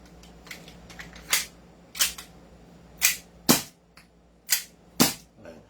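A gas-powered airsoft pistol fires a series of sharp, loud cracks at irregular intervals, about seven distinct shots with fainter clicks between them, nearby with no talk.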